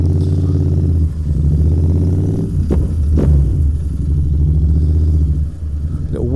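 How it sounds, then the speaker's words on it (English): Royal Enfield Interceptor 650 motorcycle pulling away through city traffic, a loud steady low engine rumble with rising revs and a couple of sharp horn-like blips near the middle, no talk. "this bike, it's got plenty of get up and go, get you smoothly away and around all that traffic"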